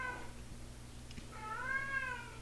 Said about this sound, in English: My cat just talks all the time